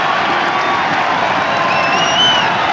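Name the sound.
rugby crowd cheering at Gloucester vs Harlequins match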